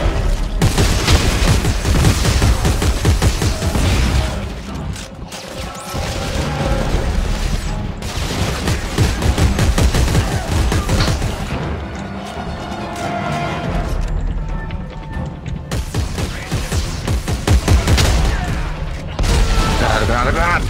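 Loud bursts of shotgun gunfire in Dead Space 3 boom repeatedly amid crashes and clatter, with brief pauses between volleys and a voice talking over the action.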